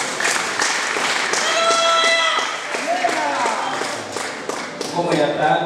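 Wedding guests at a crowded celebration in Nyamata clap together, a dense ripple of applause mixed with voices and talk, rising and then thinning out.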